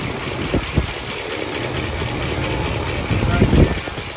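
A 1978 Malibu's rebuilt 350 engine with an Edelbrock intake manifold runs at a steady idle, a constant rumbling drone with a couple of slightly louder surges.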